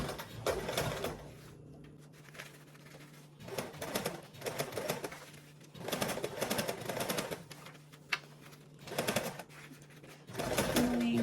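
A sewing machine stitches along a fabric grab handle in several separate bursts of fast, close mechanical rattling, with quiet pauses between runs.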